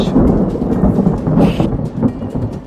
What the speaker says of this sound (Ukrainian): А періодично невідомо звідки з'являється дощ.